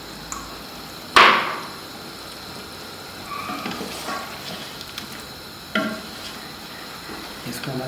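Spices, salt, chili, cashews, peanuts and ground poppy seeds fry for Sindhi biryani, a low steady sizzle under soft stirring scrapes, with a sharp clink of a utensil against the pan early on and another later.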